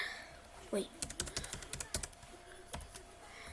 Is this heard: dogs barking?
no